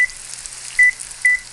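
A kitchen timer being set gives three short, sharp electronic beeps, one near the start and two spaced apart later, over a faint hiss of frying from a nearby pan.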